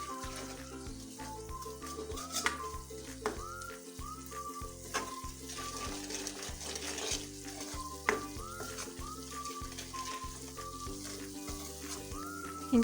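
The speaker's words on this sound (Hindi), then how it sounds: "इनकी अच्छी से भुनाई करने के लिए थोड़ी देर के लिए रख दें।" Spices with coriander powder and salt roasting in oil for kofta curry masala, a low steady sizzle with occasional stirring clicks under prominent background music.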